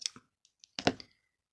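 Scissors snip through crochet yarn close up, a few quiet sharp clicks followed by one firmer cutting snap, with silence in between.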